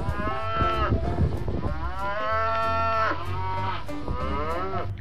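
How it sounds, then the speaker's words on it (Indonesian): A fat cow, loaded onto a truck for sacrifice, moos loudly and repeatedly in long drawn-out bellowing calls, close by, with no talk. "Wow, kita dapat sapi."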